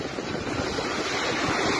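Stormy sea waves and wind at the Black Sea coast near Sochi during flooding, a continuous loud roar of surf with heavy wind buffeting the microphone, steady and close throughout, with no voices.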